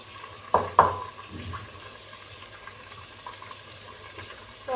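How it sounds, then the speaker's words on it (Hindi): Ground spice mixture is stirred into chicken karahi in a pan, with two sharp metallic clinks of a spoon against the pan, then soft scraping and faint sizzling. "बहुत ही अच्छे तरीके से मिक्स करते हैं"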